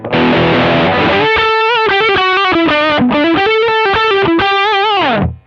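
Electric guitar played through a Shark Rock You Drive distortion pedal with mids pushed up, giving a loud, crunchy overdriven tone: a strummed chord ringing first, then a steady run of picked, sustained distorted notes, close and alone.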